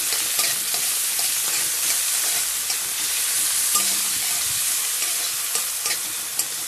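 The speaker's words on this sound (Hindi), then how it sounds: "हमें बढ़िया से चलाना है हमारी चॉप वेजिटेबल्स को, ताकि अच्छे से मिक्स हो जाए।" Chopped vegetables are stirred in a hot pan with a constant sizzle, overlaid by repeated close scraping and tossing as a spoon moves through them, with no talking.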